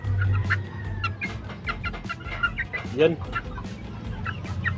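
Bantam chickens cluck and chatter close by in a coop, with repeated short calls over a low steady hum, while someone speaks briefly in Filipino.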